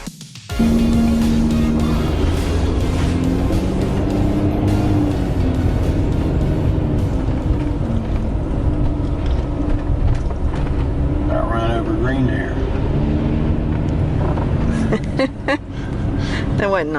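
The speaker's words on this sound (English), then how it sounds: "We chose to hop on the Coupeville ferry to Port Townsend to save hours of driving" Engine rumble and broad wash of noise aboard the Coupeville to Port Townsend ferry in Washington State, steady and fairly loud, with a brief horn-like tone near the start and some voices in the background.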